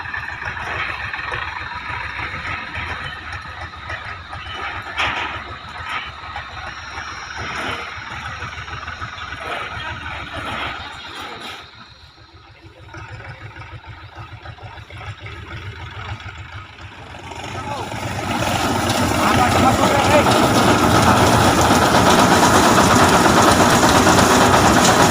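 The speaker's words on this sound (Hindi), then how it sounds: "देखिए अब ट्रैक्टर आ गया है।" A tractor engine runs with a wheat threshing machine on an organic wheat farm. A steady mechanical drone dips briefly, then swells into a louder, denser roar that holds to the end.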